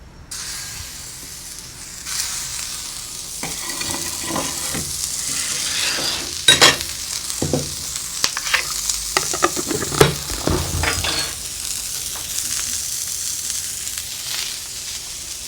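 Burgers fry in beef tallow on a hot griddle, giving a loud steady sizzle and hiss broken by sharp scraping and pressing sounds from a spatula, with no talking.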